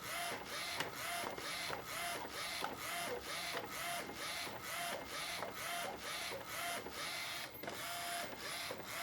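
An inkjet printer printing on curled QT transfer paper, its print heads striking the paper's edge in a quiet, steady rhythm of repeated clicking passes over a constant mechanical whir, with no voices.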